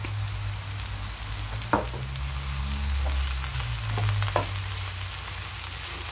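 Potatoes and eggplant with turmeric frying gently in a pan, a steady close sizzle with a few brief utensil scrapes and a low humming drone underneath.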